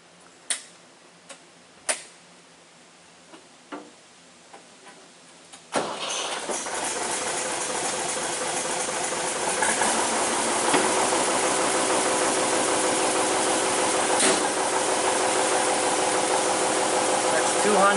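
Several sharp clanks and knocks come first, then a backhoe engine starts and runs loud and steady nearby while lifting a load, its drone building slightly partway through.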